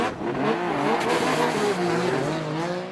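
Drift cars' engines roar loudly as they accelerate hard from the start line at a Formula Drift Japan event, revs climbing and shifting in overlapping tones, with a faint tire squeal, continuous and close.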